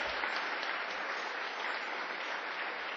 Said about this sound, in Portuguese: Pode aplaudir a Jesus agora.